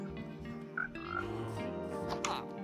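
A frog croaks in a video game jungle, a few short rhythmic croaks layered over a steady ambient game soundscape, fairly close and clear.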